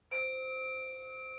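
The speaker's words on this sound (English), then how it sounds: "We're going to come and do our 3 breaths with the chime." A single chime struck to guide breathing in a children's yoga session rings out clearly, its pure sustained tones holding steady and fading only slightly over more than a second, alone in a quiet room.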